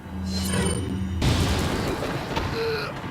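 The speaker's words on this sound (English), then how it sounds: "Incendiary grenades are really handy." An incendiary grenade in Resident Evil 4 goes off with a sudden low boom that spreads into a sustained roaring, crackling burn over game background tones, with no talk.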